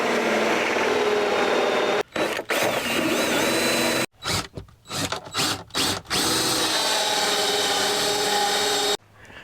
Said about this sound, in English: I'm going to drill through the outside with this, and then I'll drill from the inside, because there's metal on the outside